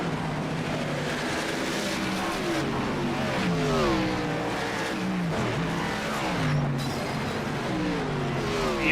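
Race car engines in an ASRL Xfinity Series video game round Irwindale Speedway, with many overlapping whining engine tones rising and falling continuously as cars race together.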